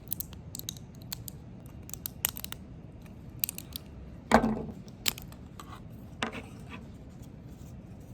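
Snips and scrapes of cutters trimming support material from 3D printed model pieces, close and fairly quiet, with scattered clicks and one louder crunching cut midway, no talking.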